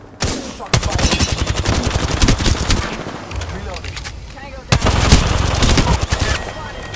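Rapid automatic gunfire fills a shooter video game battle, loud and continuous, with a sharp burst of renewed shots partway through.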